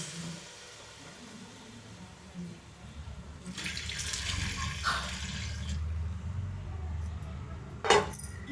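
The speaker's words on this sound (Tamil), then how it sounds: "2 கிளாஸ் பால் சேர்த்துக்கலாம்." Coconut milk pours steadily into a pot for several seconds, a soft continuous splashing with a brief clink near the end.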